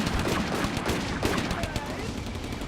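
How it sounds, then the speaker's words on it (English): Dense battlefield gunfire from the desert war game Combat Mission: Afrika Korps, with rapid overlapping shots, machine-gun bursts and grenade blasts, a loud continuous barrage filling the whole stretch. "our guys are now throwing multiple grenades to stop them and spending the last remaining bullets on hand"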